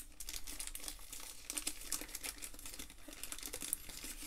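Crinkly plastic rustling as a basketball trading card, a sticker-autograph hit from a Dunk Crate Gold Edition repack box, slides into a plastic sleeve; close, soft crackles and small scrapes run throughout with no talking.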